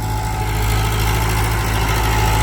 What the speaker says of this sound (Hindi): जब इतना लोड फ्री चल रहा है ट्रैक्टर एकदम जबरदस्त तरीके का।